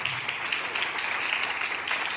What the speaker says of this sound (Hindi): इन सभी डायनेमिक लीडर के लिए मैं चाहूंगा कि एक जोरदार ताली होनी चाहिए।